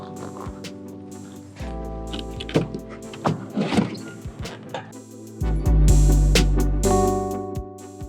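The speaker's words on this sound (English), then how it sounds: "The roof raises on this vehicle." Electric motor of a Honda Stepwagon Field Deck raising its roof, a steady mechanical whir with clicks and knocks, rising to a louder strained hum near the end, with no talking.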